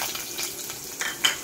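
Ginger and garlic sizzle in hot oil in a pan, with a crackling hiss and a few light clinks of a utensil stirring, close and fairly quiet, with no voices.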